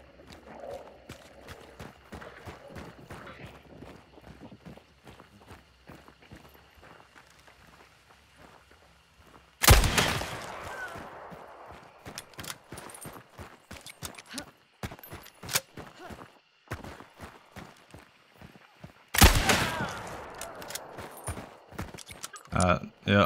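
In the game Hunt: Showdown, two sharp, loud gunshots ring out about ten seconds apart, with quick running footsteps and a voice talking around them.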